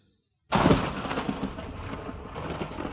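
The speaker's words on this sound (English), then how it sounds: "Suddenly, there was a flash of lightning and the noise of thunder." A sudden loud crack of thunder breaks the silence, then rolls and rumbles on steadily without fading, close and heavy.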